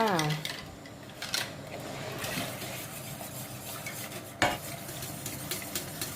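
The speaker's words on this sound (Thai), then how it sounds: "ต้องคนตลอดด้วยค่ะเดี๋ยวไหม้เนาะ" Pudding is stirred continuously in a pot of boiling water, with a utensil scraping and swishing around the pot, sharp clinks now and then, and a low bubbling hiss underneath.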